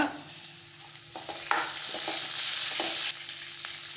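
Green chilies and curry leaves sauté in a pan for a curry, a steady close sizzle broken by several scraping stirs of a spatula, with no voices.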